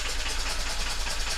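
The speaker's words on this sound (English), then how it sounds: "Blowing out and sucking in from the air intake." A diesel boat engine's air intake puffs out and draws in with a fault, a brief steady low mechanical chuff and whoosh, close and continuous.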